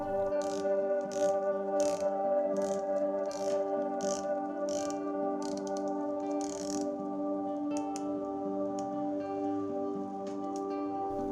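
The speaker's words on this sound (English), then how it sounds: "it has got this 120 clicks unidirectional bezel" The 120-click unidirectional ceramic-insert bezel on a Zelos Swordfish dive watch is turned, giving a regular series of small, close ratcheting clicks over a soft steady tonal background.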